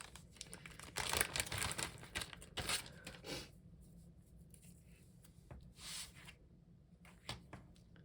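Tear-and-tape adhesive is torn and pressed onto ribbon at close range, giving soft crinkling and rubbing with a few brief rips, quiet overall.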